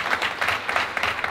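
An audience claps and applauds at a local civic event in Favria, a steady burst of clapping from a crowd, fairly close and continuous for a brief moment.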